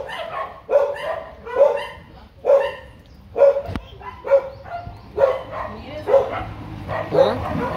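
Dogs barking loudly and close by, about nine sharp barks in a loose, uneven rhythm, with faint background noise between them.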